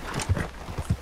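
Horse hooves clip-clop in Red Dead Redemption 2, a steady walking rhythm of several distinct low thuds, close and moderately loud with no talk over them.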